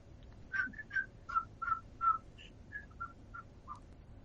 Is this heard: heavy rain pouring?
no